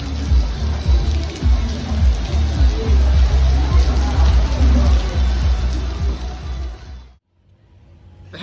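Steady rain pours onto a street in Fisherman's Village, Koh Samui, Thailand, a dense continuous wash with low thuds and some talk underneath, then cutting off abruptly near the end to quiet.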